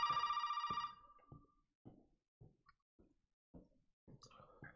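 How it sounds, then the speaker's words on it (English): A telephone in the Resident Evil 7 video game rings in a rapid trilling burst that cuts off, followed by sparse dull knocks and footstep-like thuds in a quiet, eerie room. "Well, I am not answering that phone."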